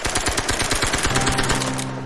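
Rapid machine-gun fire rattles in a World War II film scene, a dense fast burst of loud shots that ends in a low sustained tone near the close.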